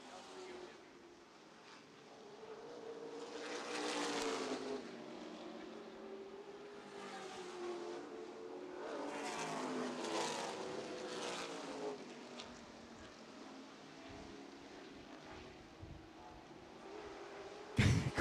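Late model stock cars racing at Winchester Speedway, a distant engine roar that swells and fades as cars pass, partly under an announcer's steady commentary, with a louder burst at the very end.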